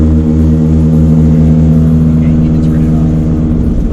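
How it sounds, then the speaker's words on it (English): A 2019 Jeep Cherokee's hill descent control gives a steady, harmonic moaning drone from the brakes, loud and close, over a low engine rumble while the vehicle creeps downhill in low range. "that was hill descent control, also known as brake moaning"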